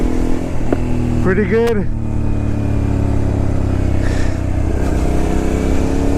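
A Suzuki SV650S motorcycle on a test ride gives a steady, loud engine drone with wind rush throughout, and the rider talks briefly over it.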